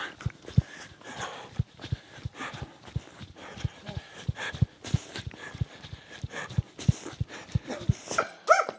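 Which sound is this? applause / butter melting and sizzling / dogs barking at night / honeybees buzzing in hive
dogs barking at night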